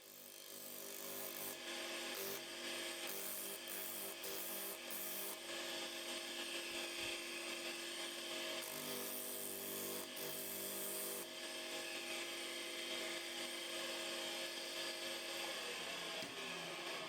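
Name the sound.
old restored sanding machine test run with sanding paper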